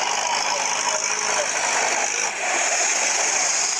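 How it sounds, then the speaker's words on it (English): A Marak engine drives a pump on a gold mining operation, giving a steady, loud, close mechanical drone with a constant hiss and no pauses. "This is the Marak engine."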